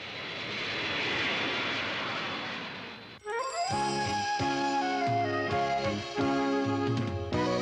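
An airplane flies over a capital city shortly before landing, a broad steady engine roar swelling and fading for about three seconds, then giving way to music.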